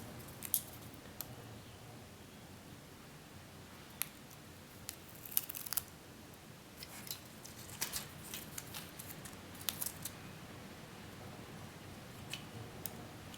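Scissors trim VHS tape during a physical tape transplant, with quiet sharp snips and small clicks scattered irregularly over soft handling rustle, close and faint, without talk.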